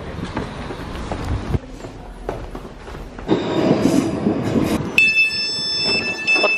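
A train runs along the rails with steady rumbling and wheel clatter, growing louder midway before a sustained high metallic wheel squeal rings out near the end.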